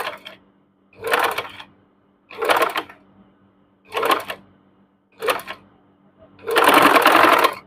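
Sewing machine stitching gathers for a puff sleeve, six distinct bursts of rapid whirring stitches separated by short pauses, the final run longest, close and clear with a faint hum between.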